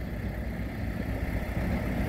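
A Cat 308E2 CR compact excavator with rubber-insert tracks idles at a subdivision building site, giving a low, steady, fairly quiet engine drone with no one talking.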